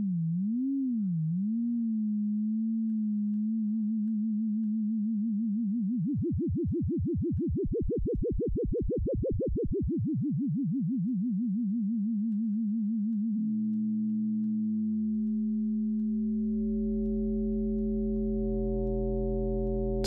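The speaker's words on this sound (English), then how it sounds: "as the modulation index increases, you can hear how the vibrato becomes even wider" An FM synthesis tone built in Pure Data holds a steady pitch, then its vibrato swings wider and faster before easing back, and it finally jumps into a rich, buzzy, harmonic sustained tone. It plays alone and loud, with no talking.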